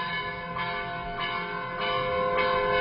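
A church bell rings steadily with evenly spaced strikes, each leaving a bright, sustained metallic hum, heard fairly loud and alone.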